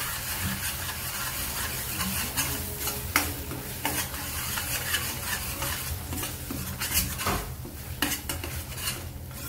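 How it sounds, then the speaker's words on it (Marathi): A spoon scrapes and stirs paneer masala spices with yogurt in a hot pan, giving repeated metallic clinks and scrapes over a constant low sizzle, close up and without talk. "छान असं मिक्स करून घेऊया."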